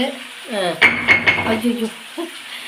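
Ground spice paste goes into a pan of spicy Chettinad crab curry, bringing a few metallic clinks of a spoon against the pan amid soft sizzling, while a voice talks in the background.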